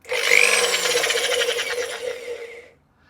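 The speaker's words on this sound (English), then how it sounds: "if I take an old-fashioned drill and drive it in the anti-clockwise direction" A hand drill cranks anti-clockwise, turning a Yamaha RZ500 motorcycle speedometer cable, producing a whirring, rasping mechanical whine with a rhythmic ripple, starting abruptly and fading out near the end.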